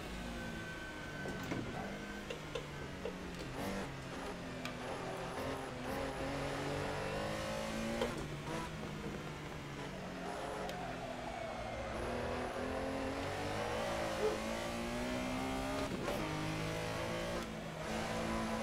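A race car engine drones and revs continuously through corners and straights in a racing video game at Silverstone, pitch rising and falling with throttle changes, fairly loud and steady with no talk.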